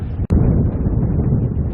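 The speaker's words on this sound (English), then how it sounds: "It's windy again." Heavy wind buffeting the microphone on the England Coast Path near Flamborough, in a continuous low rumble, briefly cut off by a short dropout near the start, then roaring on steadily.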